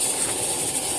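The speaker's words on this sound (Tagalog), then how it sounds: "Tapos ito yung blower natin." Steady, loud roaring whoosh of a blower fan forcing air into a homemade used-oil burning stove with sheet-metal surround, a constant rushing hiss with no breaks or talk.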